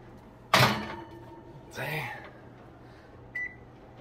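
A dish of Brussels sprouts is put into an oven: a sharp loud clunk of the door, a softer rolling sound of it moving, then a short electronic beep, with someone talking.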